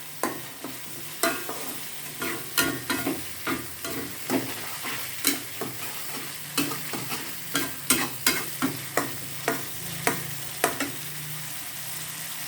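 Balinese spice paste fries in oil in a pan while a spatula stirs it, giving a steady sizzle broken by repeated scraping and stirring strokes, close and clear with no voices.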